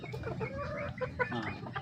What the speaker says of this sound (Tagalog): Ultimo, sarili kong alagang manok.